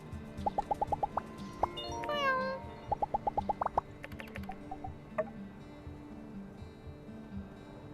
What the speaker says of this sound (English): Oh, look at that kitty.